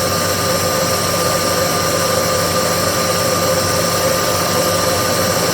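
A Bridgeport milling machine cuts metal with a steady mechanical hum and whine, continuous gear and motor drone with faint rhythmic texture from the cut.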